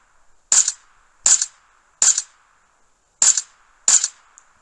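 Five evenly spaced single gunshots in the mobile game PUBG Mobile, sharp and close, each followed by a short decay, with quiet gaps between.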